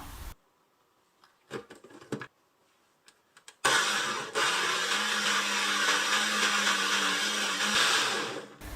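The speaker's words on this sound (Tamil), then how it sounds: "இப்போது இது கூட ஒரு 1/4 கப் மட்டும் தண்ணி சேர்த்து நல்லா ஸ்மூத்தாக அரைச்சிக்கணும்." A blender grinds finely chopped apple with a little water into a smooth juice, starting after a few quiet clicks and handling sounds, then running loud and steady for several seconds.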